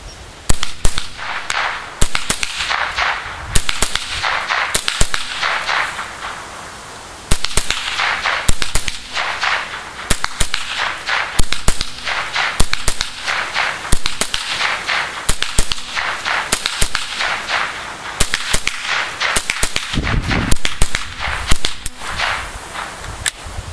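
Rapid series of sharp rifle shots from a Ruger 10/22 semi-automatic with a Mannlicher walnut stock, fired outdoors toward a target about 100 yards out, loud cracks in quick irregular bursts across the whole stretch.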